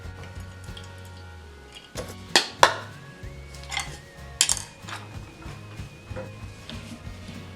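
Air-fried crab rangoons being served onto a plate, with several sharp clinks of utensils and dishware against a faint background hum.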